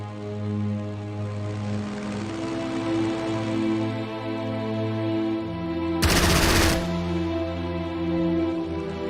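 Aircraft cannon fire from a World War II strafing run in a strategy game sounds as a short, dense, loud rattling burst over a steady droning engine hum, with no talk.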